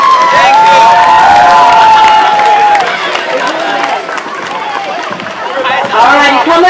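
A parade crowd at Cleveland One World Day's Parade of Flags cheers and applauds loudly, with shouting, whistles and a dense hubbub of voices filling the whole stretch.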